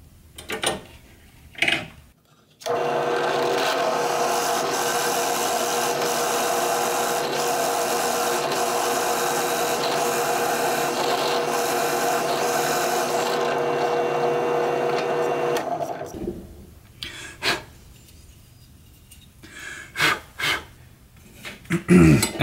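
A drill with a 5/8 inch Forstner bit cuts a recess into an LED holder, giving a steady, loud whine for about thirteen seconds, framed by short handling clicks before and after.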